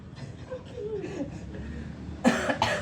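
A couple of short, harsh coughs burst out near the end after quiet, muffled background sounds.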